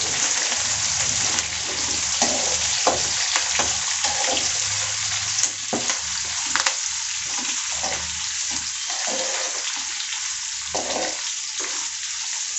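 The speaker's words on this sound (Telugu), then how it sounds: "ఇప్పుడు ఇవన్నీ చక్కగా కలుపుకుందాము." Sliced okra frying with curry leaves in a pan rattles and scrapes under a utensil stirring it through a loud, steady sizzle, with a hollow knock now and then over about twelve seconds.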